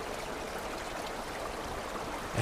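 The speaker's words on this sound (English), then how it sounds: "I'm standing on top of a stream or small river" A small river or stream courses beneath and between stones, giving a continuous, even rushing wash of water with no talking.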